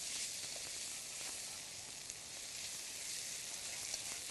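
Pork stir-fries in XO sauce with a continuous bright, hissing sizzle at close range, broken only by a faint scrape or two; no voices.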